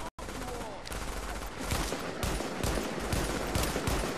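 Gunfire in the video game The Division comes as rapid, sustained bursts of shots close by, with several volleys following one another over a few seconds, loud and continuous.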